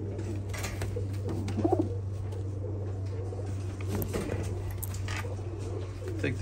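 Kakite show pigeons cooing in their loft, low rolling coos recurring through the stretch alongside scattered shuffling and pattering over a constant low hum.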